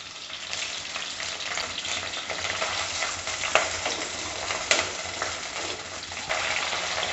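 Onions, curry leaves and spices sizzle and crackle steadily in a hot pan, with occasional scraping and stirring clinks; no voices.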